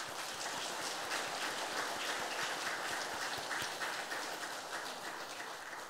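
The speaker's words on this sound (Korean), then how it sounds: "오늘 이 시간에 우리 부교육자들 위해서 박수 한번 쳐주세요." A church congregation gives a round of applause, a steady dense wash of many hands clapping at some distance that carries on evenly, with no talk over it.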